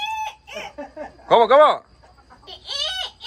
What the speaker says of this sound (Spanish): Ese es el gallo.